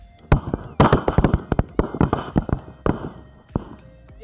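An anar bomb firecracker strapped to a potato goes off outdoors in a rapid, loud, close series of sharp cracks and pops with crackling fizz between them, lasting about four seconds.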